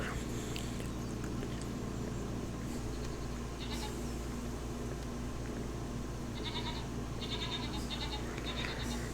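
Goats bleating in the farming game Farming Simulator 25, several calls rising over a constant hum of ambient farm noise and rumble, with a few short bleats clustered near the end.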